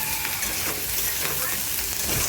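Potato, tomato and onion sauté in a pan during low-oil home cooking, giving a close, steady sizzle and hiss that runs unbroken through the short stretch with no voices.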